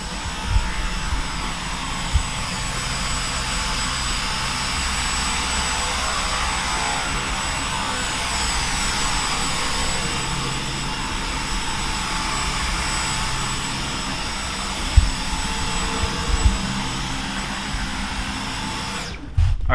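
A Dyson Cyclone V10 Animal cordless vacuum cleaner runs on pure carpet in a room with a steady, loud whirring motor hum that holds throughout, broken by a few brief knocks and clatters near the end.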